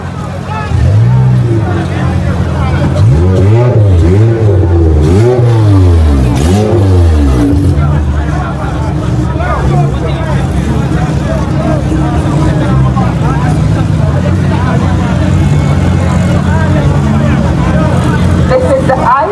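Drag race cars in the Pro Race 9 seconds class at a Jamaican racing event roll up to the start line, their engines revving in loud rising and falling sweeps over a steady idle rumble while an announcer talks throughout.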